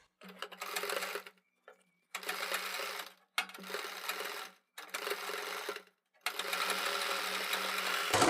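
A sewing machine stitches piping onto a round neckline in four or five close bursts of rapid, steady whirring, each lasting a second or two, with short silent pauses between runs.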